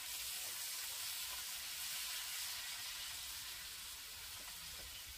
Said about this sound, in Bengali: নুনটা দিয়ে আরো 2 মিনিটের মতো সবজিটাকে একটু ভেজে নিয়েছি।